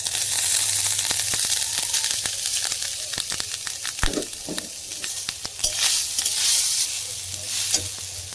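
Grated coconut sizzles and fries in a wok while being stirred, with a continuous crackling hiss punctuated by sharp scraping taps of the spoon against the pan.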